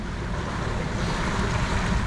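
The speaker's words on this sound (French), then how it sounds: "Bon, le vent est arrivé pour vrai, là." Steady wind and wave wash surround a sailboat under sail with mainsail and genoa out, a continuous broadband rushing roar with wind buffeting the microphone and no pauses.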